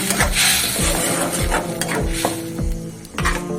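Mustard seeds and dry red chillies sizzle loudly and steadily in hot oil, with spoon stirring and metallic pan clinks throughout.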